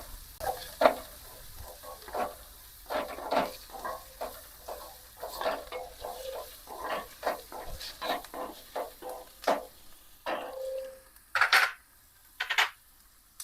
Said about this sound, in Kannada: ಇವು ಮೂರನ್ನ ಇನ್ನೊಂದ್ಸಲ ಚೆನ್ನಾಗಿ ಮಿಕ್ಸ್ ಮಾಡ್ಕೋಬೇಕು